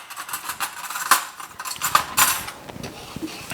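A fork mixing butter and heavy cream in a pan, a run of light metallic clinks and scrapes in an uneven rhythm, close up with no talk.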